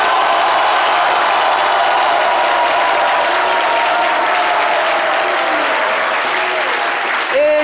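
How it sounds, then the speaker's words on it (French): A studio audience on a midday television show breaks into loud, sustained applause, a dense wash of many clapping hands with faint cheering that runs without a break and cuts off sharply at the end. "Merci de vous applaudir."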